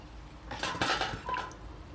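Utensils clink and scrape against a bowl while Thai rice noodle salad is stirred, two short bursts of tossing, close and fairly soft, no voices.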